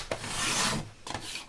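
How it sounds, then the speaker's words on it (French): Scissors or a blade cutting through a paper card: a close, harsh rasping stroke lasting most of a second, followed by a second short cut, with no talking. "on va couper là"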